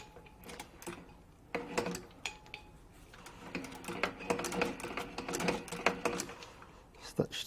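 A sewing machine stitches across a Repertoire belt being shortened, running in bursts of rapid ticking clatter that start, pause and resume, with low-level voices and handling noise around the mechanism.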